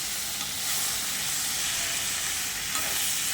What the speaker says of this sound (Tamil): அந்த சூட்லேயே வதங்கிடுங்க கொத்தமல்லி.